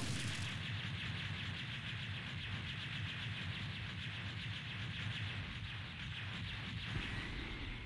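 Mega Man X5 PlayStation game explosions form a dense, continuous rumbling barrage of booms and crackling blasts, loud and unbroken throughout with no talk.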